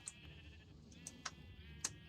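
Sheep on an automatic sheep farm in a video game bleat several times in short, scattered calls, quiet and without talk.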